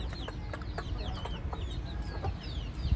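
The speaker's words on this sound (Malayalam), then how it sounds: "ഇവിടെ ഇതാ വേറൊരു കോഴി ബിസ്ക്കറ്റ് തിന്നാ കേട്ടോ" Several chickens and chicks cluck and chirp softly nearby in quick irregular bursts over a low rumbling background, in Nalbari, Assam.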